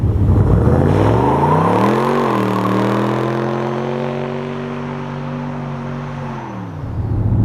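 A built, twin-charged 392 Hemi in a Dodge Magnum with a new cam rumbles loudly up close, its pitch climbing in a rev, dipping, then holding a steady lopey idle before dropping off near the end.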